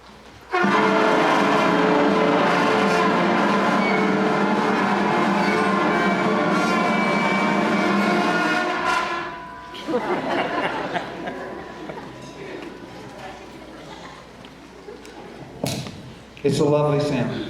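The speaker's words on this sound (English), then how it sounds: "we're going to play our very first note of the Fort Clarke Middle School beginning band" Middle school beginning band at a winter concert sounding its very first note together, a loud, wavering, blaring sustained chord lasting several seconds, followed by scattered audience noise and chatter.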